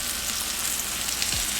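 Flour-coated, seasoned salmon frying in canola oil, a loud, steady crackling sizzle filling the whole moment without pause.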